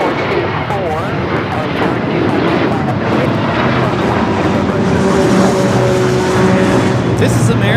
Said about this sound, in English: This is American Airlines 613 taking off to Chicago on the 737-800.